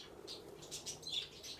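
Small birds, including Californian quail, cockatiels and diamond doves, flutter and flap in a frozen aviary, with soft rapid wingbeats and faint chirps, quiet and close, with no talk.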